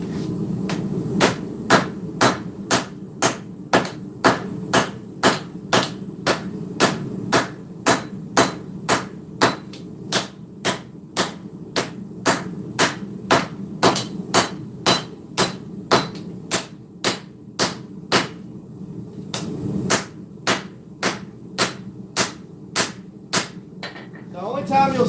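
A hammer forges a steel sword blade, striking in a steady, evenly spaced series of sharp metallic clangs, about thirty blows with a short pause partway through, loud and close over a low background hum.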